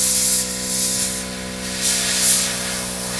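Airbrush spraying paint at low air pressure onto a Messerschmitt 109K scale model, a steady close hiss in several bursts with short easing gaps, alone over a faint constant hum.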